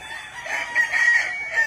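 Chickens on a Philippine farm give a short loud crow with a clucking edge, one brief call lasting under two seconds, close by.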